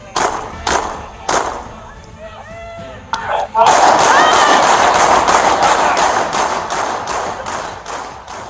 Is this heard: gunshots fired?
yes